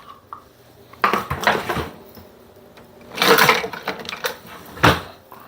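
Breadcrumbs being stirred into onion sauce in a bowl, with a few bursts of scraping and clinking from a utensil against the bowl amid quieter stretches.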